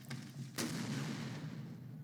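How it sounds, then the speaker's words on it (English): A barbed-wire landmine detonates in a Fire Pro Wrestling match: one sudden sharp boom, preceded by faint thumps and trailed by a steady low rumble. "at some point we're going to hear that explosion from landmines"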